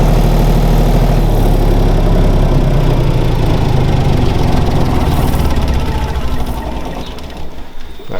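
An engine-driven pump runs with a steady, loud mechanical drone and a rapid rhythmic chatter, the level dipping slightly near the end.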